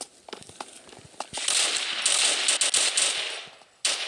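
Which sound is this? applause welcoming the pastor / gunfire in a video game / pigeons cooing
gunfire in a video game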